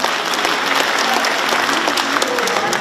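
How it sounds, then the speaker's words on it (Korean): Sustained applause from a gathered audience at a book launch celebration, steady and fairly loud throughout with dense clapping and no pauses. "여러분 박수로 환영해 주시기 바랍니다"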